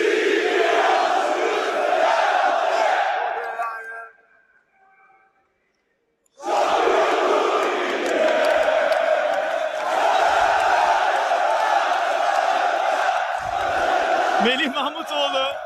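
A stadium crowd at a Fenerbahçe championship ceremony roars out a fan song led by the team captain, loud massed voices singing together, breaking into a few seconds of near silence before surging back.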